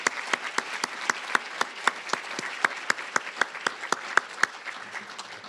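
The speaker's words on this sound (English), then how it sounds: "can we give him one more round of applause" Audience applause at an awards event honoring women: a thin, spread-out clapping with distinct individual hand claps in a steady, moderately quick rhythm, fairly faint and a little distant, with no talk over it.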